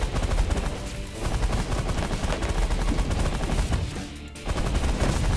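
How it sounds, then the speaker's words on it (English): Rapid minigun auto fire from the space strategy game The Last Federation, a dense, continuous rattling burst that stays loud and steady throughout, briefly dipping near the end before resuming. "Minigun, auto fire to clear out the trash."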